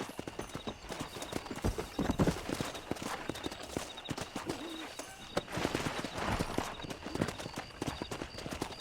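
In the video game Red Dead Redemption, rapid clip-clopping of horse hooves, several horses moving together at a quick pace, loud and close, with faint birdsong behind.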